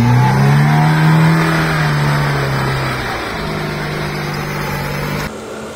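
A Lada Niva off-road car in a forest, its engine revving loudly and then settling into a steady lower drone, running in rear-wheel drive with the front driveshaft removed, close by and without speech.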